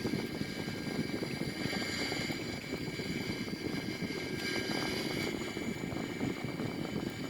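An Airbus A340 climbs out in a flight simulator, its steady jet engine roar a continuous, even drone that holds at a constant level throughout with no talk.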